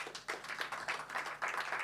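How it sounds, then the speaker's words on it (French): An audience applauds a guest at a conference on sports technology and the legacy of the 2024 Olympic and Paralympic Games, with steady clapping in uneven bursts, moderately distant and fairly soft. "Paquet, présidente et CEO de Sporty Papers, qu'on peut applaudir."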